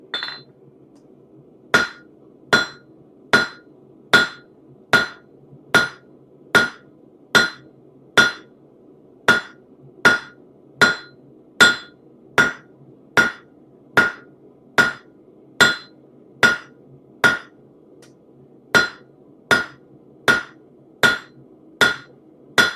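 Hot rivets are hammered during the making of a trivet, with a steady run of about twenty-five sharp, ringing metal strikes, close and evenly spaced with a brief pause partway through.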